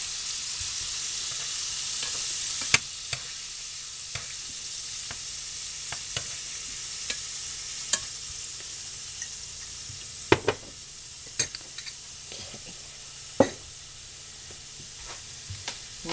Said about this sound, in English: we're going to break this up because we're going to make a biscuit and gravy scramble